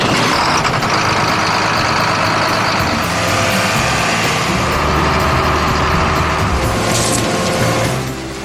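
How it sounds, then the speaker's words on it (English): A tractor engine runs loudly and steadily in the early morning as it is readied to work the land, a dense mechanical roar with rattling and hissing over it before it eases off at the end. "Like Orlando Duran, who in the early morning hours gets his tractor ready to work the land,"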